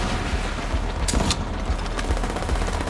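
Gunfire in the video game The Division 2 rings out as a few sharp shots over continuous loud game noise, with no talk.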